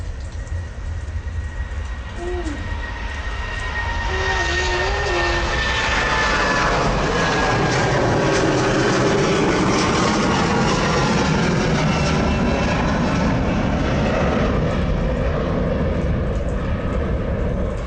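An Embraer Legacy 600 business jet roars loudly and steadily, a continuous broad rumble that swells and holds for the whole stretch with a rising whine near the start.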